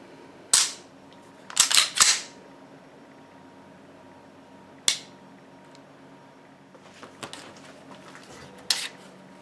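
Sharp trigger reset clicks from a Sig P226 pistol chambered in 40 S&W: a single click, then a tight cluster of three, another lone click later and a faint final one, crisp and close with no talking.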